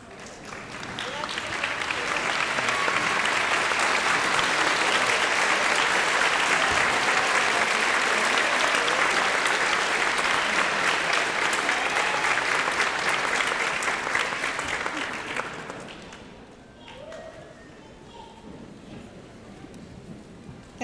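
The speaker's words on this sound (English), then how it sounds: "Graduates, if you would stand and give everybody that has supported you on this journey an applause." Loud applause from the audience at a university nurse pinning ceremony swells quickly, holds steady for about fifteen seconds, then dies away into quiet room tone with a few stray sounds.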